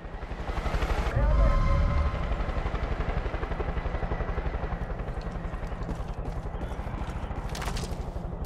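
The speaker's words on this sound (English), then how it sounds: "Sounds like there's a helicopter out here somewhere." A helicopter in the video game Far Cry 5 gives off a steady rapid rotor chop that pulses throughout, loud and fairly close, with a voice speaking over it.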